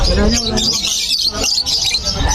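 Opaline pet birds chirp and tweet at a pet market in a dense, continuous high twittering, heard close with someone talking over them.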